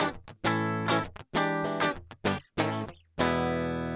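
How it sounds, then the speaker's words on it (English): Distorted electric guitar, an Epiphone Les Paul Studio using its coil split switch, playing a series of chords and short bursts, loud and up close, with sharp stops between phrases and a final sustained chord. "that actually sounds pretty cool when you use the coil split switch."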